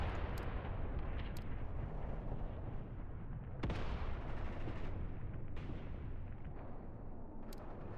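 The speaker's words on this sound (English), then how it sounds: "Send a couple of rounds with the other mortar now." Mortar rounds firing in the war game Mius Front, a dense barrage of heavy booming blasts and rumbling impacts that fill the whole stretch, with sharp cracks standing out near the middle and end.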